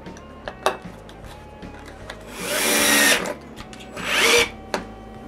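Power drill boring screw holes into a wooden block for a wooden shoe rack, two sustained whining runs of about a second each, with short clicks and bumps around them over a low steady hum.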